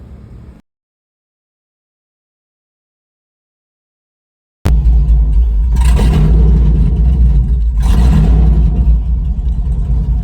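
A GMC Sierra truck with a newly swapped 6-speed transmission and new U-joints drives off, its engine a loud, close, steady low rumble that surges twice as it shifts, after a brief sound at the start and about four seconds of silence.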